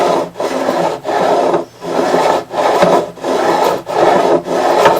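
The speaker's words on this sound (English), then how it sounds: "that's the way this file works" A fret beveling file rasps along the edges of guitar frets in five steady back-and-forth strokes, close and loud, with brief pauses between each pass and no talking.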